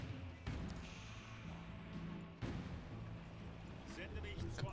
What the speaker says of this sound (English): Oh, cannon trying to take out the galleys.